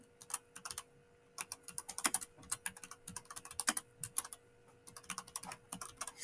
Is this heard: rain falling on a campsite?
no